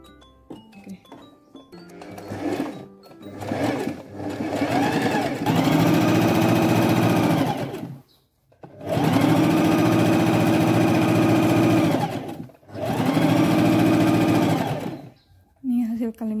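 A sewing machine stitching the hem of a baby pillowcase, three long sustained bursts of loud, fast mechanical whirring separated by short pauses, with someone talking between and during the runs.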